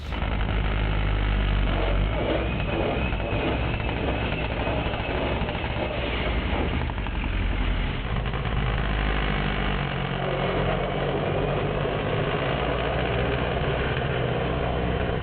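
An all-wheel-drive Honda RSX drag car with a destroked 2.2-litre K24 engine and sequential gearbox launches, a loud, sustained engine roar that shifts in character midway and stays near and dominant.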